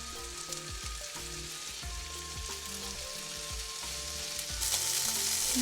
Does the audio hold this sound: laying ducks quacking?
no